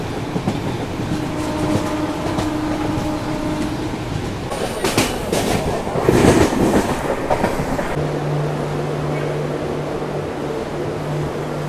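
The Vivek Express passenger train runs on the rails toward Ernakulam, heard from inside an unreserved coach as a steady loud rumble with clatter and a brief burst of heavier noise midway.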